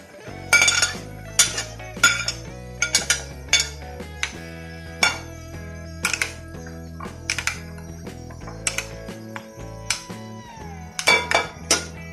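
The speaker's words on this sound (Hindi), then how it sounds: "ये सारी चीजों को मैं मिक्स कर लूंगी।" A spoon stirs raita of yogurt, chopped tomato, green chilli and onion in a bowl, producing sharp clinks and taps against the dish in an irregular rhythm, close and clear with no talk.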